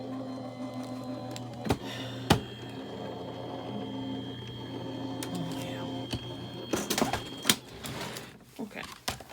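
A manual die cutting machine rolls a card through a die with a steady grinding mechanical drone, punctuated by a few sharp clicks, turning busier and clattery near the end, close and fairly loud.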